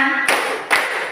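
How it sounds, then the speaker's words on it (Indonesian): Two sharp hand claps ring out about half a second apart, loud and close, each with a brief bright decay. A faint tonal voice or hum lingers at the very start. "Buka tutup, bertepuk tangan."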